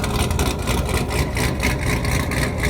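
A Subaru BRZ with an XForce aftermarket exhaust idles with a steady, deep exhaust rumble and a slight pulsing throb, close and continuous.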